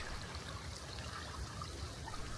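Creek water in a shady forest on the north-facing side of a tall ridge, flowing as a faint, steady broadband wash with no break and no voices.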